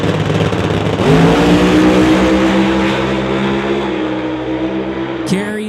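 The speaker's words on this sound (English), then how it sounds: "His first pass of the weekend in Screw Supercharged 57 Chevy." Screw-supercharged 1957 Chevy making a drag racing pass, a loud sustained engine roar with a rising, droning tone that fades slightly as the car pulls away down the strip.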